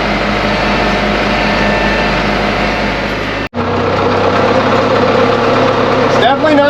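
A tractor engine drones steadily and loudly throughout a Christmas tree planting run, with a continuous low rumble and a brief dropout midway, then resumes at the same level.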